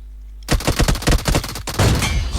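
Gunfire in the mobile battle-royale game PUBG Mobile comes as a rapid burst of loud, close shots in an even rhythm, then a brief break and a denser, sustained volley.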